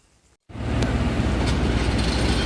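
At a railway station platform on a trip from Konkan to Mumbai, a brief near-silence is broken by a sudden loud, steady rumble of rolling rail traffic that holds constant and close, with faint clanks within it and no talking.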